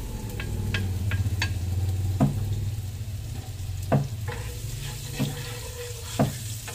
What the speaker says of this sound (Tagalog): Magigisa na ako ng bawang sibuyas. Dito ko na lang siya lulutuin.